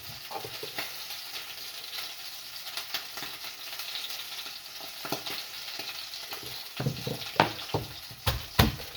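Lamb shanks browning in oil in a pan give a steady sizzle and crackle throughout, with occasional louder pops and spatters building toward the end.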